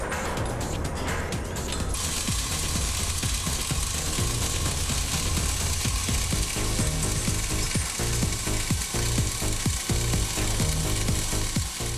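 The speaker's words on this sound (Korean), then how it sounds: "볼트 작업은 상판의 내부 공간에서 이루어진다." Workers assemble bridge deck segments inside a deck section at a large construction site. Busy, loud hand work is heard up close with bolts being fastened: constant grinding and rubbing under many rapid ratcheting clicks and metallic knocks, with no talking.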